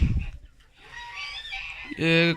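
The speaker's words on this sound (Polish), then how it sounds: "jest 20 niosek w wieku chyba 15 tygodni" About 15-week-old laying hens cluck and murmur close by, ending in a louder, drawn-out squawk.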